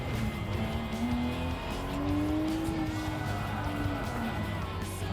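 Porsche 911 GT3 race car in a VR racing game, engine note rising and falling steadily through a corner with faint tire squeal, close and continuous for the whole stretch.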